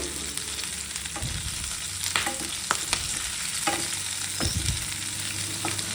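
Capsicum curry fries in oil in a pan with a steady, close sizzle, broken by several sharp scraping stirs of a spoon against the pan.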